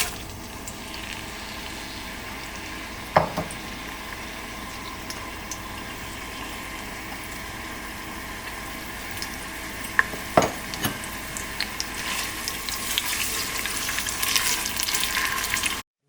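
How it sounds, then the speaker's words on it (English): Diced onions fry with bay leaves in a pot for mutton nehari, giving a soft, steady sizzle with a few spoon clinks and a hiss that swells toward the end. "We are also going to put in our onions, diced onions."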